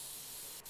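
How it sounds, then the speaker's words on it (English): Aerosol spray hissing over a dusty PC in the video game PC Building Simulator: a steady, close broadband hiss filling the short clip, with a brief drop near the end. "Let's go ahead and spray a little bit"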